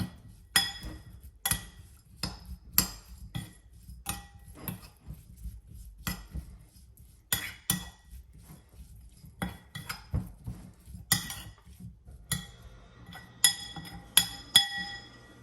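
Seasonings for shrimp chow mein, including Maggi all-purpose seasoning, are mixed in a bowl: sharp irregular clinks and taps of a utensil against the dish, some spaced, some in quick bursts, close and clear with no talk.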